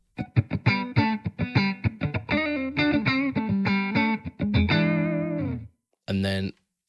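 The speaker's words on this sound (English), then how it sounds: "just to add that kind of ambience of a room" An electric guitar through a budget pedal with a faint room reverb, playing a fast run of plucked notes that settles into held chords, then a pause and one short final strum.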